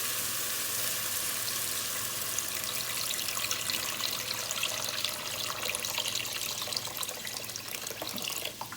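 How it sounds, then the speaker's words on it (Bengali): Water poured into sizzling fried masala in a pan for a spicy Bangladeshi katla fish head curry, a steady close rushing and hissing that runs evenly for several seconds with no talking. "এখন আমি জলটা দিয়ে দিব"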